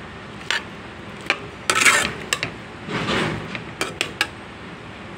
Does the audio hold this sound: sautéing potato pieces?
yes